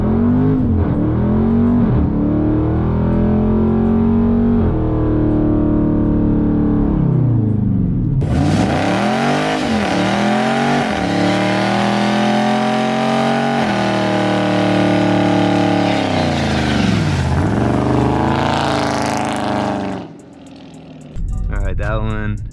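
A Dodge Charger 392 Scat Pack V8 revs hard and loud during a line lock burnout, its engine note rising and falling in repeated surges with a sharp jump in intensity midway and a brief drop near the end.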